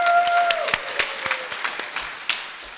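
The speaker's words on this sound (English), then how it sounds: "I'll take any free applause at this point." Scattered applause from a conference audience at a library technology gathering, a handful of sparse claps fading out over a few seconds, with a faint tone at the start.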